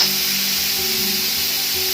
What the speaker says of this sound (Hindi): अब हम इसका जो प्रेशर है वो खोलते हैं।